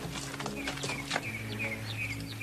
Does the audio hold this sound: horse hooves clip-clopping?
yes